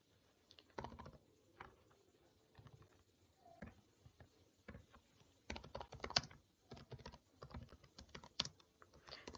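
Someone types C++ code on a computer keyboard in quiet, irregular bursts of key clicks with short pauses, soft but close, with no talking.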